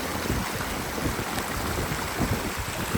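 A waterfall on the Seven Cascades hike in Mauritius gives a steady, close rushing roar of falling water, dense and even throughout, with no voices.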